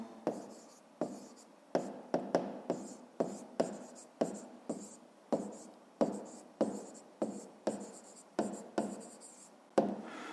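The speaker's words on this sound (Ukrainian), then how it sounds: "записуємо відповідь тоді до цього завдання" A pen writes an answer for a fifth-grade math exercise on paper, a close sequence of quick scratchy strokes in irregular bursts with short pauses between them.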